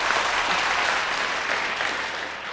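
Dense applause from a crowd, steady and full for the whole stretch with no voices over it, on a Kannada quiz show with cash-prize questions.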